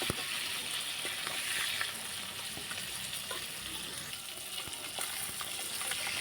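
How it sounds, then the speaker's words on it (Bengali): Tangra fish frying in hot oil, a steady dense sizzle and crackle running throughout at an even level, close by, with faint scattered pops and no voices. "মাছগুলো ভাজা হয়ে আসছে এক পিঠ তো হয়ে গেছে"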